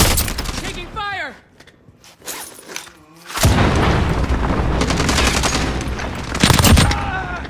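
Machine gun fire in Call of Duty Warzone, with a loud close burst at the start, a brief lull, then sustained heavy automatic fire and blasts. Voice callouts can be heard among the shots.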